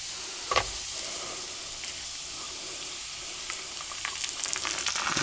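Food frying in a pan with sour cream added, cooked in a taiga log cabin; a steady close sizzle runs throughout with a sharp pop near the start and crackling spits toward the end.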